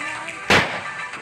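A single loud, sharp boom from a long boga, a homemade Filipino bamboo-style cannon fired for New Year's, bursting near and decaying briefly over a low background.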